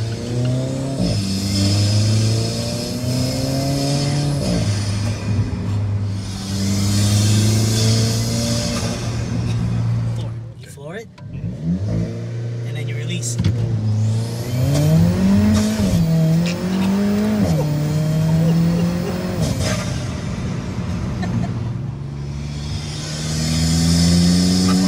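An Alfa Romeo 4C sports car engine fitted with a Eurocompulsion cold air intake revs hard and loud several times, climbing and dropping in pitch between roaring pulls, with a brief pause midway; no speech.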